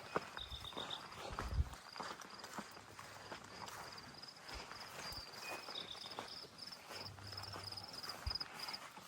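Crickets chirp steadily in high, thin trills along the Appalachian Trail near the West Virginia border, a continuous insect background with scattered footsteps and rustling close by.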